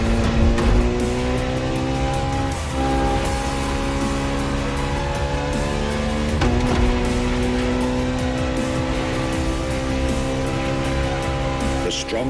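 A Ferrari hybrid V12 car in The Crew Motorfest holds a loud, steady engine drone with shifting harmonic pitch and brief tyre squeals, while a narrator talks throughout.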